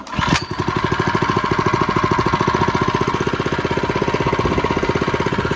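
A small quad engine with a stock muffler and aftermarket air filter starts with a clunk and settles into a fast, even putter, loud and close, running steadily throughout.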